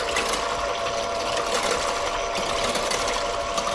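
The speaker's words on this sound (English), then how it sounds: "I'll just whisk it so it's light and fluffy" An electric mixer steadily whisks a raspberry fluff dessert mixture in a shallow jug, giving off a continuous close whirring hum with no pauses.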